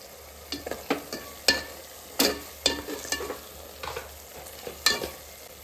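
Ground cinnamon, clove, star anise, cardamom and bay leaf powder stirred into a sizzling mushroom biryani pan, with a spoon scraping and clinking in irregular taps over a soft, steady fry, close by.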